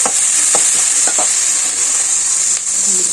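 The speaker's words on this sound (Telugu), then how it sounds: "ఆనియన్స్ పచ్చిమిర్చి సన్నగా కట్ చేసుకున్నవి, ఒక పెద్ద ఆనియన్, ఒక 5-6 పచ్చిమిర్చి అండి. అంతా ఒకసారి కలుపుకోవాలండి." Sliced onions and green chillies stir-fry for a chicken curry, giving a steady loud sizzle with a few scraping stirs of the spoon and no talk.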